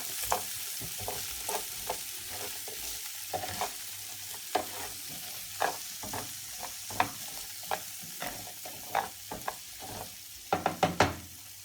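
Onion gravy simmering in a pan, a soft, quiet bubbling sizzle broken by irregular knocks and scrapes of a spoon stirring, growing into quicker clusters of taps toward the end; no talking.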